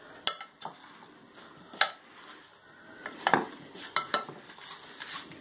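Utensils clatter and scrape against a bowl as a traditional Portuguese summer salad with potatoes and garlic is tossed, giving a run of sharp clicks and knocks at close range.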